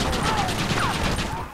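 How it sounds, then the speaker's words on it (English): A Gatling gun firing in the video game Red Dead Redemption, a rapid, continuous stream of loud shots that forms a dense, rattling roar throughout. "I'm shooting a Gatling gun"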